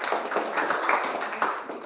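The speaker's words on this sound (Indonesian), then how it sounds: "Tepuk tangan." A sixth-grade class claps hands together in a quick, uneven burst of overlapping claps in a classroom, loud and close.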